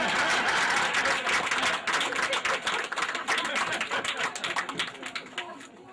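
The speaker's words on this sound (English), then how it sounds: "You can clap now." Audience clapping for a mayoral candidate at a campaign event, a sustained burst of many hands that thins toward the end into scattered individual claps.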